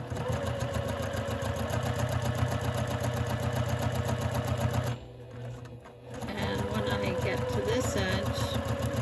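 A sewing machine stitches quilt pieces with a fast, even mechanical whir and rattle, pausing for about a second midway before starting up again, with a voice speaking over it.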